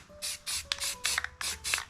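Spray paint can hissing in a series of short, separated bursts, about six blasts over two seconds, as clouds are sprayed onto a planet painting, close and moderately loud with brief pauses between.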